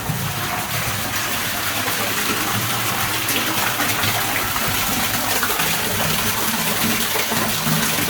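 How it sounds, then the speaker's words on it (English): Loud, steady rush of water gushing down inside an abandoned gold mine drift fills the whole clip, a constant broadband roar with no pauses and no voices. "A lot of water coming down."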